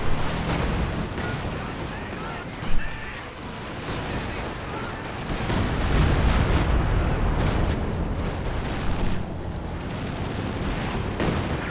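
Artillery barrage in the video game Company of Heroes 2, a dense spread of booming impacts and gunfire rumbling continuously, with a sharp blast near the start and heavier rolling explosions toward the middle.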